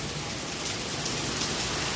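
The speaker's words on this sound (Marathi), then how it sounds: "हे बघा पाऊस." Heavy May rain pouring down in a village, a dense, even hiss of drops striking surfaces at close range, steady and unbroken without any talking.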